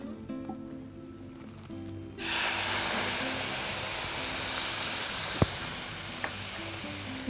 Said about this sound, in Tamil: இதில் இப்போ இந்த பால் சேர்த்துக்க போகிறோம்.